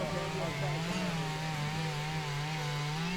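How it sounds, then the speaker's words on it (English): A chainsaw carving wood at an outdoor maker camp gives a continuous, fairly close buzzing whine with a slowly wavering pitch as the engine works the wood. "This guy was doing chainsaw carving all weekend."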